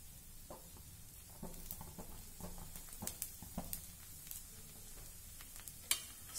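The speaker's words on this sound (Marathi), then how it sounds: "मध्यम गॅसवर हे थालीपीठ भाजून घेऊया" Thalipeeth roasting in a pan over medium gas, a faint, steady sizzle with soft scattered pops and light taps throughout.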